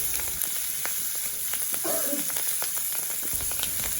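Thuthuvalai leaves and curry leaves sauté in a pan with a steady, close sizzle, broken by a few soft scrapes and clicks as they are moved around.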